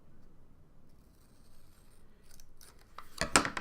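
Scissors cut paper for a collage, with a faint soft rasp and then a couple of sharp, close snips at the end.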